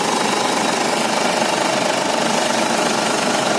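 A 2009 Ford Everest 2.5-litre turbo diesel engine runs at a steady idle, a loud, even clatter with a constant rattling texture heard up close with no talk.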